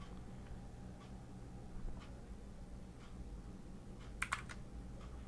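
Python code is tapped out on a computer keyboard, sparse quiet keystrokes spaced across a few seconds with a quick clustered pair of sharper clicks near the end, over low background hum.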